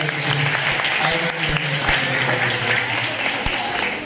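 A room of students at a career guidance camp claps steadily together, dense close applause lasting several seconds with a voice also present.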